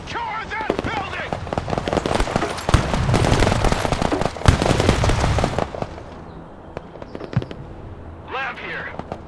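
Heavy gunfire in the Broken Arrow war game, with rapid bursts of automatic fire and sharp shots crackling loud and dense before thinning into sporadic reports, and shouted voices mixed in.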